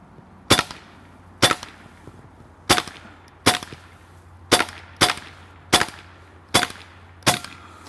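Nine sharp, evenly paced shots from a Hasan Bager .22 semi-auto PCP air rifle crack out close and loud, each followed by a brief ringing decay, with quiet pauses between them.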